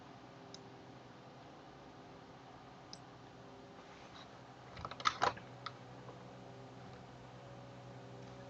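A computer keyboard pressed with a quick burst of shortcut keystrokes, a small cluster of sharp clicks near the middle against a quiet hum of room noise, with no talking.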